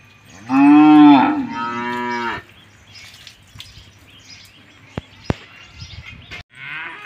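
A bull being washed ahead of the Bail Pola festival lets out one loud, close moo in two drawn-out parts, followed by quieter background noise and a couple of sharp knocks.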